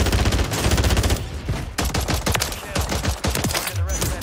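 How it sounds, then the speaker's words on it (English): Rapid gunfire in Warzone 3, including sniper shots, crackles in quick bursts and sharp single reports, loud and close with brief pauses between volleys. "I'm getting sniped at by this other guy"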